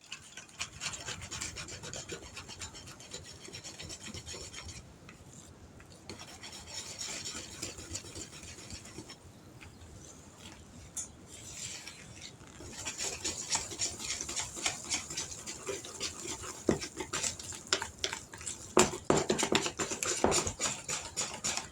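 A whisk scrapes through applesauce donut batter in a bowl in rapid rhythmic strokes, quieter at first and then quicker and more vigorous over about twenty seconds, with no talking.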